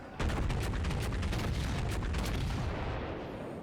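Battleship naval guns boom and rumble in World of Warships, a dense, loud run of overlapping blasts with a sustained low roar that fades slightly toward the end.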